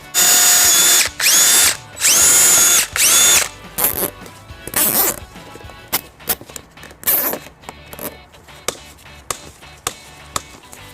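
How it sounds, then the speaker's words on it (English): A power drill with a 3/16-inch bit whines in several bursts as it bores four holes through a plastic car bumper fascia, then shorter clicks and clunks of handling follow, close and loud. "Using a 3/16 drill bit, I'm going to drill out 4 holes"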